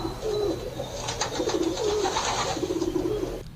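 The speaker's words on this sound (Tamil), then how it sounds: "அந்த கோவிலோட கோபுரத்துல எப்பவும் புறாக்கள் நிறைய உட்கார்ந்து இருக்குமா" Pigeons coo on a temple tower in a storytelling sound effect, with repeated low throaty coos rolling in a steady rhythm and faint chirps over a soft background before an abrupt cutoff.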